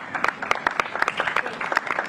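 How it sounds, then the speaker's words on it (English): Applause from an audience at a Juneteenth flag raising ceremony in Revere, a short burst of dense, uneven clapping honoring behind-the-scenes helpers, fairly close with sharp individual claps poking out. "let's give them all a round of applause"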